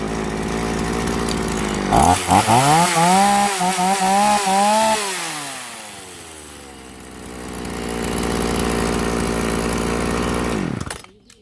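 A hard-starting chainsaw, just given a fuel needle adjustment, runs loud and close: it revs high, drops to a lower idle, climbs again, then cuts off abruptly near the end.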